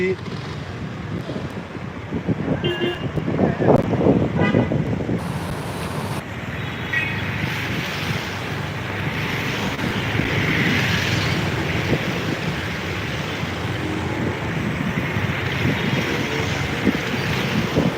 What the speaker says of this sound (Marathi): माझी स्वतःशी बाईक चालवत चालवत हा व्हिडिओ मी लाईव्ह करतो आहे